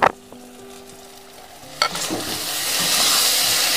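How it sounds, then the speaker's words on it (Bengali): Soaked Gobindobhog rice tossed into hot spices in a pan. After a few stirring clinks, a steady sizzle swells and grows louder, close and continuous. "এবার মশলার সঙ্গে ভালো করে চালটাকেও ভেজে নেব।"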